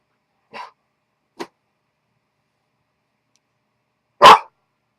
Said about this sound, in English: Some dog's doing something outside